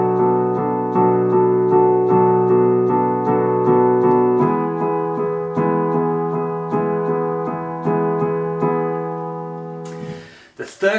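Piano chords from a song repeat in a steady rhythm, one chord several times then a second lower chord, ending with a brief noisy rustle.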